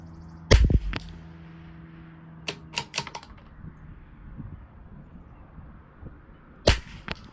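A Lithgow LA101 rifle firing Lapua Center X ammunition gives sharp, close cracks, one strong shot near the start and another near the end, with fainter clicks and rattles of handling between them and no talk.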